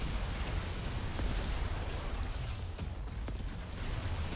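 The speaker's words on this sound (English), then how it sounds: "So that Tesla gun seems like it's just a ray gun." Tesla ray gun firing during a run of the Yet Another Zombie Survivors video game: a dense, steady electric crackle and hiss with faint pops and clicks scattered through it, loud and continuous throughout.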